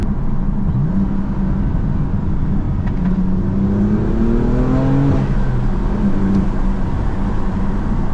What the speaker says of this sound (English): definitely hear the burbles a lot more